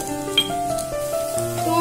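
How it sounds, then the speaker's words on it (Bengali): Onion and ginger frying in a pan for beef chapli kebab, a soft steady sizzle with a tonal hum and a brief clink, close and continuous without speech. "দেখুন পেঁয়াজ এবং আদা ভাজা হয়ে গেছে"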